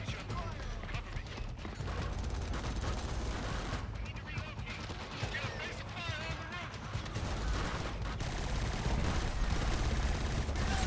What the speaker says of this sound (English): God bless those exploding barrels, man.